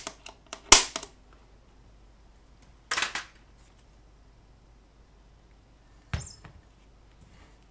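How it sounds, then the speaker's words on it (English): Sharp isolated clicks of an automatic center punch snap a few times on a Keritech VS-1 vectorscope, with long quiet gaps between them, close and crisp. "Automated center punch."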